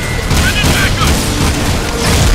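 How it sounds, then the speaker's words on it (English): Loud explosions boom and rumble in quick succession in Jak 2 on PlayStation 3, filling the scene, while a person talks over them. "Explosions! There's explosions!"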